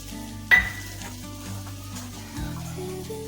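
Sweet corn kernels and carrot pieces fry in a pan for coconut-milk biryani: a soft, steady sizzle after a single sharp clink at the start.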